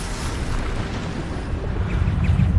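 A Bombarda explosion spell cast in the game Hogwarts Legacy, a dense roaring blast of broadband noise that swells louder toward the end with heavy low rumble, alone without talk.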